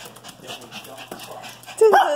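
A puppy gives a short, high, tonal whimper near the end, loud and close, after a stretch of softer sounds while a person talks in the background.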